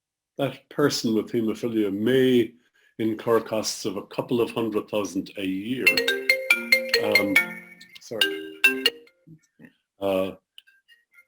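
A telephone ringtone chimes in repeated tonal bursts over and after someone speaking during a talk on clinical trials, near and fairly loud.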